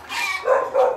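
A dog on a Vietnamese farm lets out a couple of short, close barks and yips in quick succession, with no talk.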